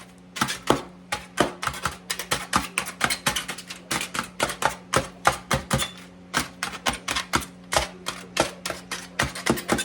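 Dozens of quick, sharp taps as aluminum foil laid over a meatloaf rack is poked full of holes, the crisp punctures coming in a steady, close, fairly loud rhythm with no talking.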